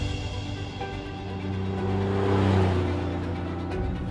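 The engine of a 1973 Ferrari Dino GTS idles with a steady low hum, then rises into a brief rev and swells louder before easing back.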